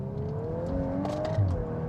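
Car accelerating hard on a test drive, the engine note rising steadily through the revs and then easing off. It stays loud and close throughout, with no talk.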